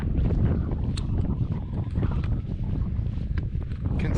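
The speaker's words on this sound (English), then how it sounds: "The wind is ridiculous, if you can even hear me." Strong, cold mountain wind at Glendalough, Ireland, roars steadily and loudly against the microphone for the whole stretch, with gusty buffeting and no voices.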